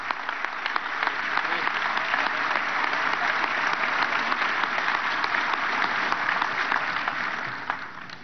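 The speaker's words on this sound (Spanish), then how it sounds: "un aplauso, que está cumpliendo años, 54 años." Applause from the audience at a formal meeting with the national armed forces greets a birthday, a sustained, dense clapping from a large crowd that holds steady and fades slightly at the end.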